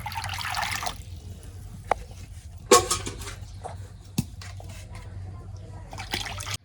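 Water pours into a pot for boiling lentils: a short gush of pouring, then quiet drips, clinks and a low hum, close by, with faint talk in places.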